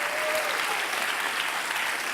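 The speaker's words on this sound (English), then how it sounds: "Give him a big round of applause." A live audience at a science festival show claps steadily for a volunteer, dense sustained applause filling the whole stretch at an even level.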